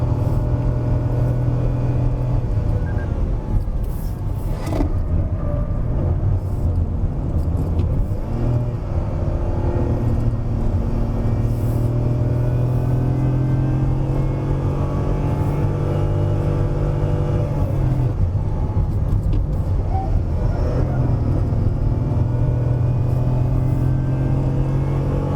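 A Perodua Ativa with a 1.0 turbo three-cylinder engine and CVT climbs Genting hill, a continuous close engine drone with steady rumble and faint whir under light cabin noise.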